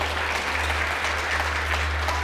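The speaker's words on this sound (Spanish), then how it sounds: "Damos un aplauso." Steady, dense applause from a church congregation during a Sunday sermon service, an even wash of many hands clapping with a low electrical hum underneath.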